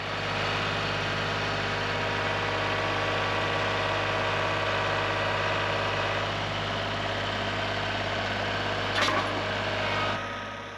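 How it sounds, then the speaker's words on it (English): A tractor engine idles and labours steadily close by while pulling a log up ramps onto skids, a constant mechanical drone with a brief clank near the end as the sound drops off. "use the tractor to kind of pull it back and roll it up the ramps"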